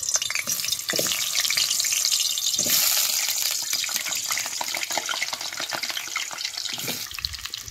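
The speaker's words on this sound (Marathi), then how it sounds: "तेल चांगलं कडलंय, आता ह्याच्यात बटाट सोडतो" Potatoes drop into hot oil in a pan over a wood-fired stove and fry with a loud, steady crackling sizzle that goes on without pause, broken by a few brief bursts of spatter.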